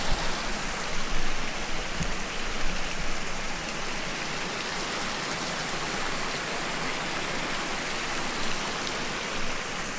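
Clear water in a stream flows steadily beside a hammock camping spot, a constant broadband rush heard close and unbroken, with no voices.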